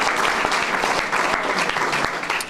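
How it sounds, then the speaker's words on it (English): Audience applause at the ribbon-cutting for a healthy lifestyle hub in a reused 100-year-old building: a dense, steady wash of many hands clapping close by, holding strong for the full stretch with only a slight fade at the end. "Yes, we can applaud to that."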